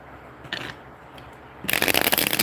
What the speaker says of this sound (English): I'm not done shuffling